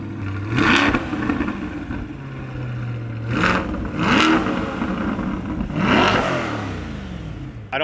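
A Chevrolet C8 Corvette with its stock exhaust revs hard several times in close succession, each loud blip rising and falling back to a steady idle rumble, with no talking.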